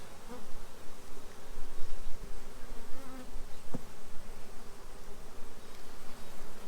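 Dense, steady buzzing of many honey bees close by around a queen cage in a small nuc hive, a low droning hum that swells and dips, with one brief click partway through.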